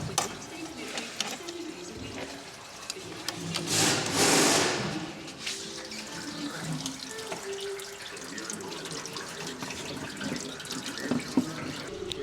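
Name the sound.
coolant draining from a Tesla Model 3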